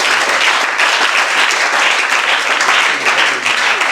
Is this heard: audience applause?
yes